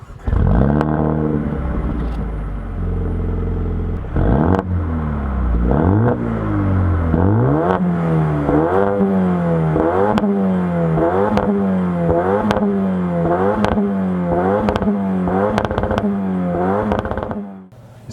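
A Mercedes A180 diesel car drives and accelerates, its engine note climbing through gear after gear in a steady rising-and-falling pattern, loud and close from inside the cabin with no talk.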